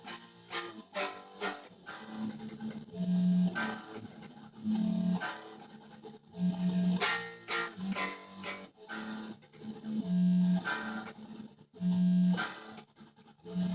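Distorted electric guitar riff alternating choppy, muted chugs with ringing open notes, played alone at a steady, moderate pace.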